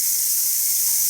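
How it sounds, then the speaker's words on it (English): Steam hissing steadily from a Ninja Foodi electric pressure cooker during release after cooking shredded chicken, a brief, continuous, fairly loud airy rush with no talking. "Letting off a little steam."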